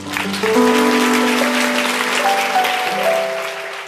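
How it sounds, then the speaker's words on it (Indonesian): A church congregation applauds during a sermon, steady hand clapping rising and holding over sustained musical tones, then easing off toward the end. "Saya tepuk tangan untuk Tuhan Yesus."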